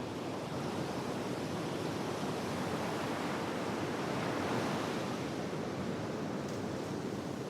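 Ocean waves wash against the shore of a Tuamotu atoll in French Polynesia, a continuous broad roar of surf and wind with no distinct breaks, steady and fairly faint, with no voices.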